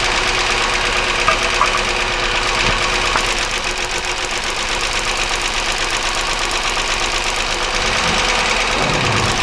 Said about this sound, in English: I'm going to go ahead and start the engine up and do this as quickly as possible